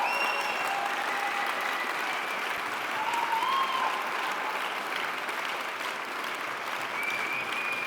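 Sustained, even applause from an audience at an architecture awards granting ceremony fills the whole stretch, with a few faint voices and whistles audible within the clapping.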